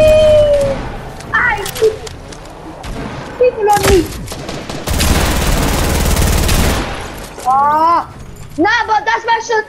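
Shotgun gunfire in the Fortnite video game, a burst of loud, close blasts running for a couple of seconds amid scattered single shots, with a player talking excitedly around them.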